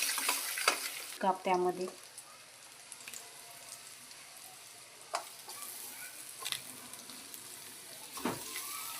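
Bitter gourd frying in hot oil with cumin, coriander, onion and red chilli, stirred in a pan: a faint ongoing sizzle broken by a few scraping spoon strokes, with a short spoken phrase near the start.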